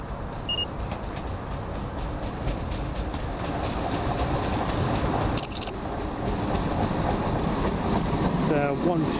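Train 170-402, the Cowden beef train, arrives in Scotland as a continuous rumble and clatter of wheels on rails, steady and fairly loud, with a brief squeal near the end.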